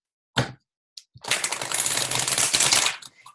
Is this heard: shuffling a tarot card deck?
yes